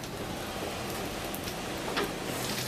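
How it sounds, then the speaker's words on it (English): Steady rain at sea hisses continuously, a dense even patter with a few slightly louder drops, and no voices. "Make it stop raining."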